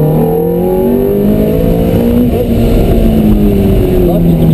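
Ferrari F430 on a race track accelerating hard, a loud close engine note with rising and falling revs through the gears, a voice speaking over it.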